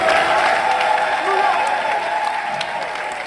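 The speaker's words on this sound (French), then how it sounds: "les filles, est-ce qu'on peut acclamer?" A group of girls claps and cheers in steady, dense applause that fades gradually, with a voice talking over it.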